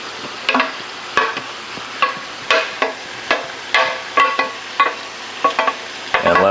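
Peppers fry with bacon in a pan over a steady sizzle, stirred in repeated rhythmic scraping strokes roughly every half second, close and clear, no voices.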